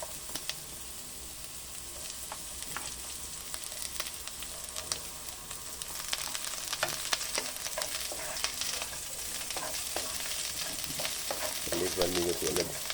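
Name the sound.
onion frying in a pan for sinigang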